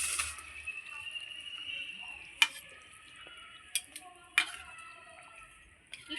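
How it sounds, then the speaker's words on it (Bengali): Rohu fish heads go into a simmering fish curry, giving a continuous soft sizzling hiss broken by a few sharp clinks of a utensil against the pot. "এইবার আমি মাছের মাথাগুলো সব ছেড়ে দিচ্ছি"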